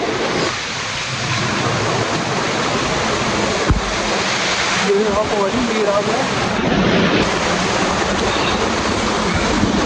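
Very cold mountain water in the Himachal mountains rushing and splashing in a steady, loud, unbroken roar that fills the whole stretch, with a few brief knocks along the way.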